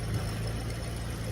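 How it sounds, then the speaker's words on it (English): An Infiniti car's engine runs steadily just after a jump start at a towing auction, a low, even idle hum that stays faint throughout. "able to get the Infiniti started with a jump"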